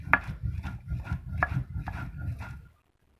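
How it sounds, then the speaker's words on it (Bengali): Dried hidol fish shutki being ground for bharta, a steady run of repeated rubbing and pounding strokes at close range, roughly five or six rhythmic grinds that stop abruptly near the end, with no talking. "এখন মাছগুলো দিয়ে বেটে নিচ্ছি"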